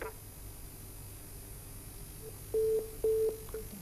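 A telephone line tone sounds after a call drops: two steady electronic beeps of about a quarter second each, separated by a short gap, coming over a quiet background hum.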